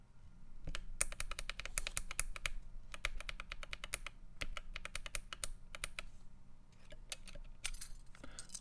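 Rapid clicky typing on a Keychron Q1 mechanical keyboard with a keycap refitted, bursts of sharp keystrokes with brief pauses, close and fairly loud, no voices.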